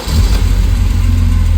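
A Euro-spec BMW E34 M5 engine runs loud and close, a steady low rumble settling into idle right after starting, with no voices.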